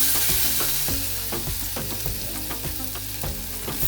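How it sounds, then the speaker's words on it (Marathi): Grated red carrots sizzle and fry in warm ghee in a pan for carrot halwa, with steady close crackling and occasional stirring scrapes throughout, no voices. "तूप थोडंसं गरम झालं की यामध्ये खिसून घेतलेला गाजर टाकून घ्यायचा आहे"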